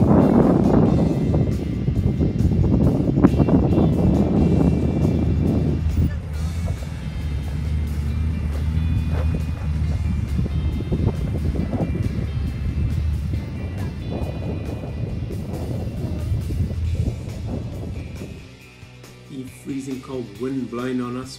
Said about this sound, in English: Wind blowing on us all the time